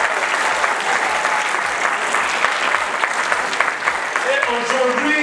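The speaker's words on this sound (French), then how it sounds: "Je voudrais vous demander d'applaudir très fortement tous ces lauréats qui sont là" A crowd applauds award winners and leaders at a ceremony with loud, dense, continuous clapping that fills the whole stretch. A few voices mix in under it.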